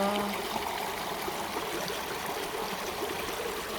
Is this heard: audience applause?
no